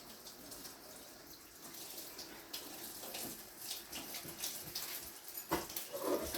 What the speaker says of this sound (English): There's a little bit of a fat cap on it, not real thick, but I'm just rinsing it off.